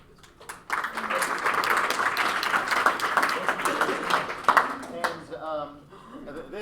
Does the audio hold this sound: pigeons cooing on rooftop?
no